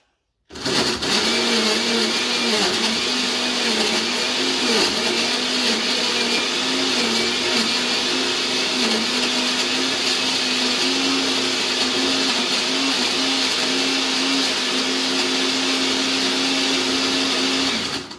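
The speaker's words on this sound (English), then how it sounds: "Now we blend." A blender whirs loudly and steadily, its motor pitch wavering slightly as it churns a thick ice cream milkshake, running without pause for the whole stretch.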